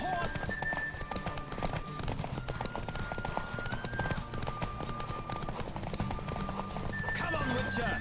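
Horse hooves clip-clop in a fast, steady gallop beneath game music in The Witcher 3: Wild Hunt, with a brief whinny; voices talk over it.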